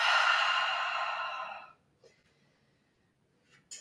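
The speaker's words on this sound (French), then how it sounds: "Une profonde inspire par le nez. Une grosse expire par la bouche." A big, forceful exhale through the mouth during a yoga session, a long breathy rush lasting over a second and a half before fading, followed by quieter breath sounds.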